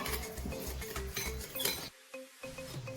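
A spoon stirs salt and sugar into water in a bowl to dissolve them for sugar syrup in a khaman dhokla recipe, giving a steady rhythmic clinking and scraping against the container, close and fairly quiet.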